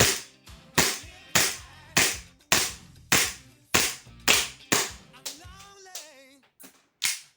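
A Beretta M9A3 airsoft pistol fires 6 mm BBs in about a dozen sharp, evenly spaced cracks, loud and close, each followed by a brief clatter, with a short mechanical squeak late in the string.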